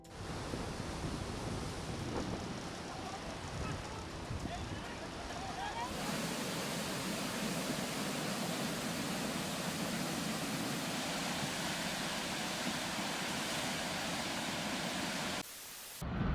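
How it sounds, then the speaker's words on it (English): Floodwater rushes through a small town in Germany, a loud, unbroken roar of churning water that thickens midway, with voices faintly audible beneath it. "Floods take over a small town in Germany."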